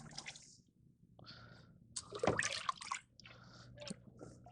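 Cold brine of dissolved salt and sugar is poured into a brine container, with bursts of splashing and gurgling liquid at close range and a louder surge partway through.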